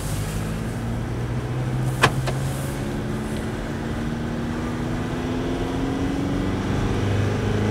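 A VW Amarok with an automatic gearbox drives held in first gear, its engine humming at a steady, slowly climbing pitch over constant road rumble from the cabin, with one brief click partway through.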